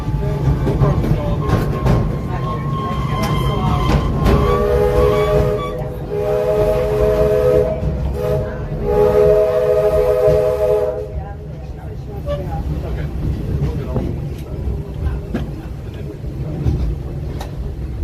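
Walt Disney World steam train pulling into Frontierland Station at the Magic Kingdom, with a sustained whistle-like harmonic tone midway over a steady rumble of rolling cars and crowd noise throughout.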